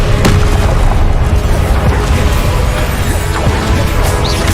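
A booming Confringo blast spell explosion in the Hogwarts Legacy video game, a dense continuous low rumble with repeated thuds over several seconds, loud and close with other spell effects mixed in.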